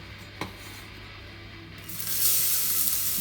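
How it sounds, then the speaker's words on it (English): Onions sweating in olive oil in a pan, a faint sizzle that starts low after a single soft knock and then swells into a brighter, steady hiss. "Okay, we're gonna sweat our onions off"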